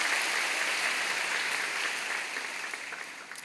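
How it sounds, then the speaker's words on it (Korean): A church congregation claps to welcome a new minister during a Sunday service, a soft even patter of hands that fades slightly toward the end. "여러분 크게 박수로 환영하시지요"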